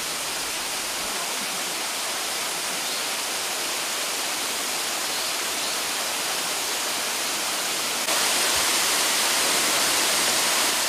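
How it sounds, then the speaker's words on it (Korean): Steady broadband rush of water spilling over an embankment in a small waterfall, constant and fairly close, growing slightly louder near the end. "미술관 맞은편에 작은 폭포가 보입니다."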